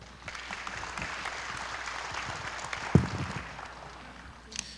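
Audience applause welcoming the head of a Korean robotics research institute at a maritime and fisheries outlook conference, a soft, steady patter of many hands held at a moderate distance, with one sharp knock near the middle.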